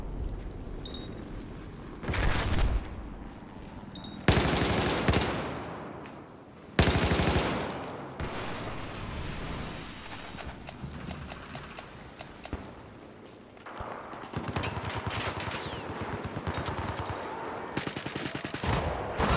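Heavy machine gun fire in a Battlefield 4 multiplayer Conquest match on Xbox One, long rapid bursts of loud gunfire broken by short pauses, with sharp louder shots cutting in and continuous rattling fire toward the end.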